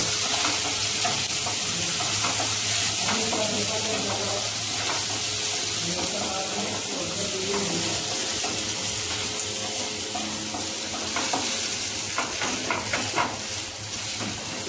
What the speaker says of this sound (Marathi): आता याच्यामध्ये टमाटर टाकते, टमाटर चांगलं फ्राय करून घेते।